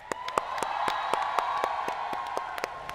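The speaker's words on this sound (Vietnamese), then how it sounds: "Thưa quý vị, một tràng pháo tay nồng nhiệt." An audience applauds at a televised koi-fish show, sparse, distinct claps at an uneven pace over a steady background hum.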